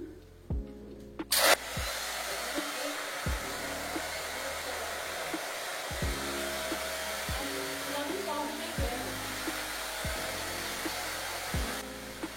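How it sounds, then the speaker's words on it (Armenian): Handheld hair dryer fitted with a round attachment, running as a steady, close, loud whoosh for the whole stretch, with brief clicks from switching settings and faint handling knocks, with no talk. "Առաջին էտապով այս սրանով, այս գլխիկով չորացնում եմ մազերը։"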